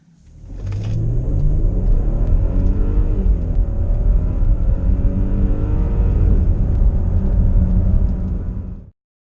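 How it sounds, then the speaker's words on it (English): An Audi Q7 engine rises into a deep, rumbling growl as it accelerates, loud and close, holding strong before cutting off abruptly. "if you step on it, you do get that growl"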